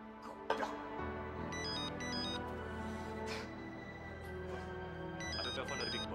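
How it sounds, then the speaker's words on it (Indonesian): A telephone rings with a bright, repeating electronic tone, its bursts recurring several times over a low background hum, while a voice speaks faintly nearby. "Ada telepon dari Big Boss."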